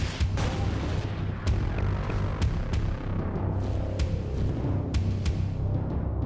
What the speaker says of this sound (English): New and improved nukes deliver the final solution.